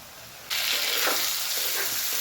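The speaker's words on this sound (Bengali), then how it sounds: "খুব ভালো করে সবজিগুলো আমি একসাথে ভেজে নেব" Tinde with tomato and spices frying in a pan gives a quiet background that jumps into a loud, steady hissing sizzle with a few stirring scrapes.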